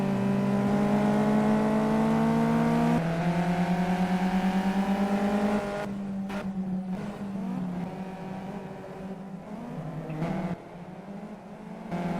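Race cars whine past in the Simraceway video game during a lap race, engine tones rising and falling as cars pass, one engine note dropping sharply midway, steady and moderately loud with no voices.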